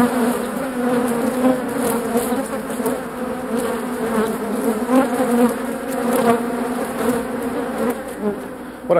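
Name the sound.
recreated sound of 70 million bees swarming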